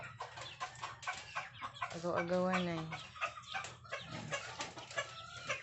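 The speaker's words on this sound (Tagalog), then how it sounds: "Yung mga manok naman namin pasaway." A chicken clucks and squawks loudly up close, with a drawn-out call in the middle, while a person talks over it.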